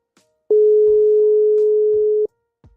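Steady electronic ringing tone from a virtual call connection, a single loud sustained beep lasting under two seconds, alone and close, with faint clicks around it.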